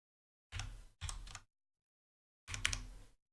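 A few short bursts of typing on a computer keyboard, two quick clusters of key clicks followed by a third after a pause, close and clear in an otherwise silent room.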